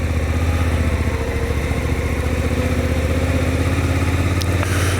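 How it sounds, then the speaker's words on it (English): A motorcycle engine idles steadily and loudly close by on a church road in the Welsh Borders, a constant low throb with a faint click near the end and no voices. "We turn this bike round"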